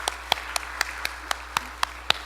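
A church congregation clapping to welcome a visitor, heard as sparse, evenly spaced sharp claps close by with no talking.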